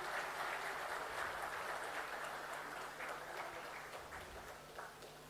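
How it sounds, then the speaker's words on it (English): Audience applause at the inaugural session of an auto retail event, a quiet, distant wash of clapping that holds steady throughout and thins slightly toward the end. "Let's have a big round of applause, ladies and gentlemen."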